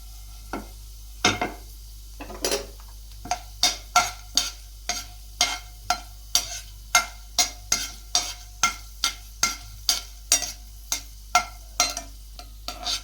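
Lentils frying in a pan are stirred with a spatula in about twenty quick, regular scraping strokes over a faint continuous sizzle, with no speech.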